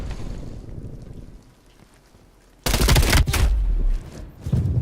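Gunfire in a Black Ops Cold War multiplayer match: after a quiet stretch of low wind-like noise, a sudden loud burst of rapid shots lasts over a second, then a second shorter burst follows.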